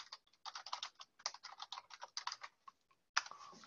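Close, crisp clicking on a computer keyboard in short bursts with small pauses, alone and fairly quiet.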